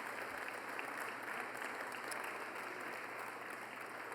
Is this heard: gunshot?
no